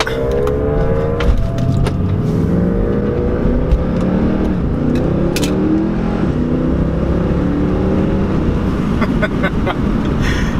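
A Mercedes C63 AMG driven hard in manual mode roars loudly and continuously, the engine note rising and shifting through gears as heard from inside the car, with no talking.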